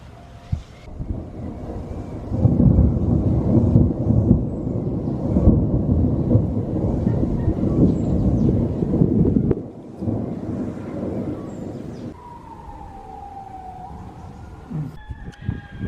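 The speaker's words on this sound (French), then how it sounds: "hier vous avez vu, on a eu un gros orage et puis on a essayé de filmer" A thunderstorm over the bay at Kotor, with a long, heavy rumble of thunder building and rolling for several seconds before easing into a softer, windy wash and a faint rising tone near the end.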